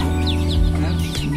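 Backyard chickens in a village cluck and chatter close by, short throaty calls over a steady low background hum.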